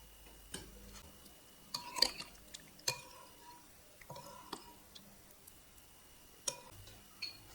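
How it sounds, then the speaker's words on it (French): A utensil stirs scallop tartare through a clementine vinaigrette in a bowl, giving faint, sparse clicks and soft scrapes of spoon on dish, quiet and close with little else around. "Je déverse la totalité sur le tartare. On mélange."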